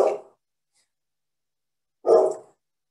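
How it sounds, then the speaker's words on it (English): A pet dog barks twice indoors, one sharp bark cut off at the very start and a second single bark about two seconds later, each moderately loud and close, with silence in between. "Now I'm going to wait for my dog to stop barking."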